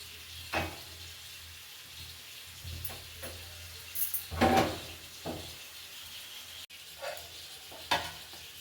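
Spices temper in hot oil for radish sambar with soft sizzling crackle rising in short bursts, with a few clinks and scrapes of a spoon or pan, quiet and close, no talking.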